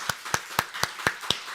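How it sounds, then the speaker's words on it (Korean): Evenly spaced claps ring out in a church during a Sunday morning worship service, about six sharp, clear strikes at a steady rhythm, close and distinct against a quiet room. "박수 한번 하시죠."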